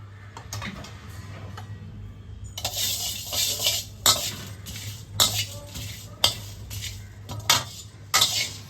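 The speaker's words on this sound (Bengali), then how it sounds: "সবার প্রথমে আমরা একটা মশলা ড্রাই রোস্ট করে নিচ্ছি" Whole cumin, coriander seeds and dried red chilies dry-roasting in a pan, with a spatula scraping and clattering against the metal in repeated sharp strokes over a low background hum.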